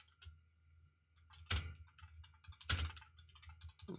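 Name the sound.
typing on a computer keyboard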